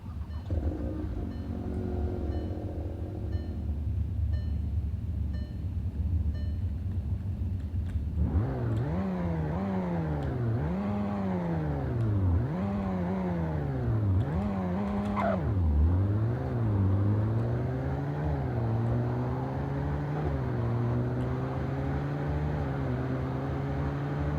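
A car engine in the Roblox game Greenville idles with a low, steady hum, then revs repeatedly in rising and falling surges before settling into a higher sustained drone.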